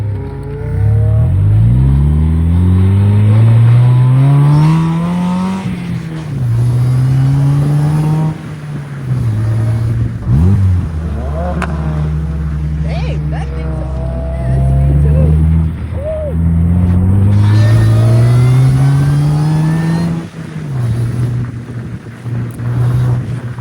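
A small road-legal DF Goblin car engine revs up repeatedly, pitch climbing through several gear shifts, loud and close, with people talking over it at times.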